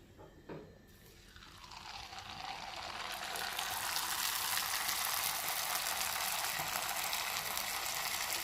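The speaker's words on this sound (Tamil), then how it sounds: "இதை வந்து எண்ணெயில் போட்டு பொரிச்சு எடுத்துக்கலாம்" Snack dough dropped into hot oil for frying, opening with a few faint taps before a loud, steady sizzle builds up and then holds as a continuous bubbling hiss, close by, with no talking.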